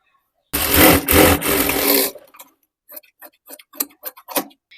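A sewing machine stitches a blouse in a loud, fast burst lasting about a second and a half, then stops, leaving a scatter of quiet clicks and taps.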